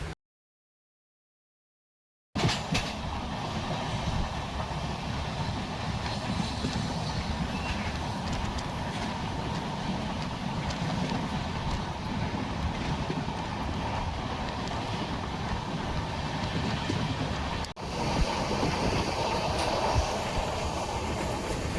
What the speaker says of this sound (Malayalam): കർണാടകയിലുള്ള ഒരു ടണൽ പാസ് ചെയ്തുകൊണ്ടിരിക്കട്ടോ വണ്ടി